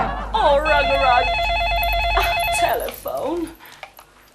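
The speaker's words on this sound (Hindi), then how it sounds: "टेलीफोन।" An old landline telephone rings in a Hindi TV comedy scene, a warbling electronic bell repeating steadily for a few seconds over room noise and a dog barking before it stops.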